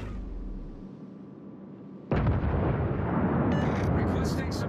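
Artillery fires on an enemy warship, a sudden heavy blast followed by a sustained roaring rumble with crackling bursts on top.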